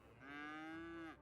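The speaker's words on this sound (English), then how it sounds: "That was a moo." A single cow moos in the Cities Skylines farming game, one drawn-out, faint lowing note that swells and then fades, heard alone.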